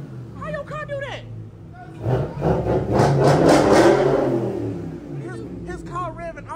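A 2023 Dodge Hellcat with a straight-piped MBRP race exhaust is revved hard, rising into a loud, sustained roar that peaks and falls back, with people chatting close by before and after.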